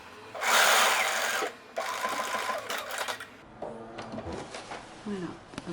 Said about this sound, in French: je vais surpiquer de l'autre côté